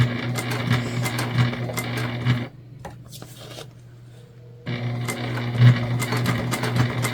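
A domestic sewing machine top stitching through the layers of a tote bag near its handles, running in a steady close buzz, pausing briefly for a couple of seconds, then resuming the same even whir.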